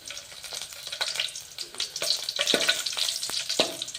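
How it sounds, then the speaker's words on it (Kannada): Onions and garlic, with cumin and mustard seeds, fry in a pan for a raw banana sambar, a steady crackling sizzle broken by sharp spatula clacks and stirring scrapes, close and fairly loud throughout. "ಇವಾಗ ಈರುಳ್ಳಿ, ಇವು ಸ್ವಲ್ಪ ಗೋಲ್ಡನ್ ಕಲರ್ ಬರುವವರೆಗೂ ಫ್ರೈ ಆಗಿ"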